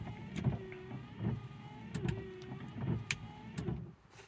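Windshield wipers on a Volkswagen with a faulty wiper arm and relay run in a steady repeating motor whir with rhythmic swipes about every 0.8 seconds, close and moderately loud, with no talk.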